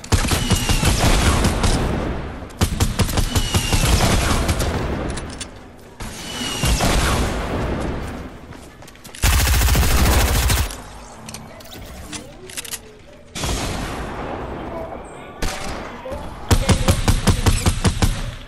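Rapid bursts of video game gunfire, loud and dense, with heavy thumps and booms in a shooter match, broken by short quieter gaps while players talk over the action.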